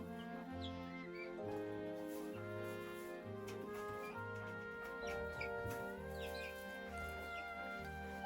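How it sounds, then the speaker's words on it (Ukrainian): Soft clucking from a turkey hen mixes with many high peeping chicks, a busy chorus of chirps over a steady background hum. "А тут з курчатками індичка"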